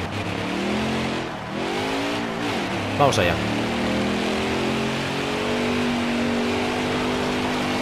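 A NASCAR race car engine in NASCAR Heat 5 revs at the start of a race, rising and falling in pitch loudly and steadily, with someone speaking briefly over it.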